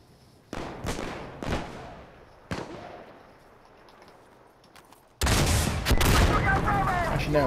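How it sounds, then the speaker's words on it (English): Airstrike explosions in the video game Insurgency Sandstorm on a farmhouse map: several booming blasts with long decaying rumbles, then a dense continuous roar of detonations, loud and close. "I'll just call an airstrike on it."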